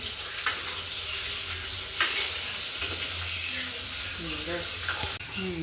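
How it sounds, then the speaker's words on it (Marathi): Brinjals sizzle steadily in hot oil as they are turned over and over in the pan, with scraping and stirring knocks over the constant frying hiss and a brief voice near the end. "मस्त तेलामध्ये खालीवर खालीवर करत राहायचे वांग्यांना"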